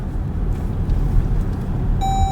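Seat belt warning chime in a Jeep repeats at a steady pitch, entering near the end over low cabin rumble and road noise.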